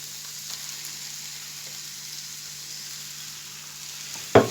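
Meat frying in a pan gives a soft, steady sizzle at low level throughout, ending with a sudden sharp clatter or thump right at the close; no talking.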